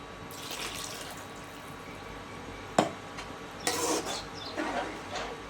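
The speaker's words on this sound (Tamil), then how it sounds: "இன்னும் கொஞ்சம் தண்ணி சேர்த்துக்கலாம்" Water is poured into thick ground lentil batter for lentil-ball curry in a home kitchen: a few short, close splashy pours with brief pauses between them, and no talking.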